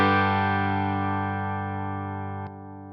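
Electric guitar clean tone from a Joyo Preamp House pedal on its Fender Twin Reverb model, one sustained ringing chord that slowly decays before being cut off abruptly, played alone.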